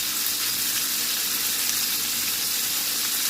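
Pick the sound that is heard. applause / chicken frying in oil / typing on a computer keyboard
chicken frying in oil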